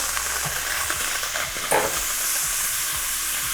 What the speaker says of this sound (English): We're gonna add your channa to your pot. Just give it a little stir.